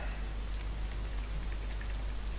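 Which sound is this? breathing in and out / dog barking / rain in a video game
rain in a video game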